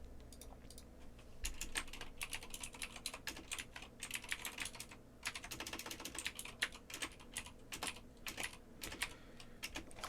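Fast, uneven typing on a computer keyboard during a late-night coding session, with close, crisp key clicks in bursts and brief pauses, quiet overall and heard without talk.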